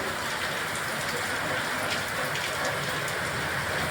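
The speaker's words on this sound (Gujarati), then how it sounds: "વરસાદ કેવો જોરદાર મુસળધાર વરસી રહ્યો છે બિદડામાં" Heavy torrential downpour in Bidada, a dense, constant roar of rain pounding surfaces with water gushing, loud and unbroken throughout.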